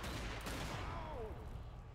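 Gunfire aimed at explosives in the video game Zombie Army 4: Dead War, dense continuous shooting and blasts filling the whole stretch at steady loudness, with no pause between shots.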